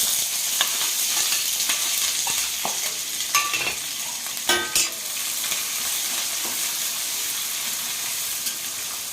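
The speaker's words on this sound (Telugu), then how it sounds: "కొంచెం ఎండుమిరపకాయలు వేసుకుందాం తాలింపులో తర్వాత పెద్దలిపాయలు వేసుకుందాం" Onions sizzle in hot oil with sesame seeds and dried red chillies, a steady frying hiss throughout with scattered clicks and scrapes of stirring and a few louder pops near the middle, heard alone.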